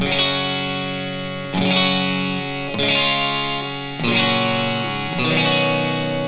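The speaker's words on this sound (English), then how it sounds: "It's a compressor." Electric guitar chords played through a compressor pedal ring out five times in an even rhythm, each strum sustained and smoothly leveled, clean and close.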